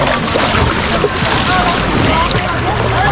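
A boat passes along a river at a campsite in Nakhon Nayok, Thailand, its motor and rushing water blending with steady wind buffeting the microphone while people talk nearby.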